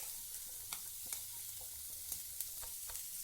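Vegetables being sautéed in a pan with fried urad dal, a soft, faint sizzle broken by scattered spoon scrapes and light clinks.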